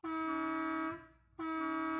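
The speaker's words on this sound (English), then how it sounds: "is that honking I hear?" A truck's air horn blasts twice, a long loud tone, a brief gap, then a second sustained honk, close and clear with no speech.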